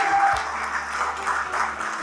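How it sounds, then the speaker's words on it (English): Guests at a wedding reception applaud, a soft diffuse spread of clapping at moderate level, continuous and fairly even throughout with a faint tone at the start. "Please round of applause for that"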